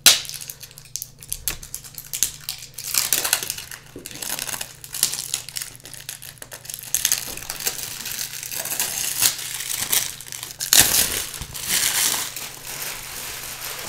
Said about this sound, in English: So that takes care of the plastic wrap of the box.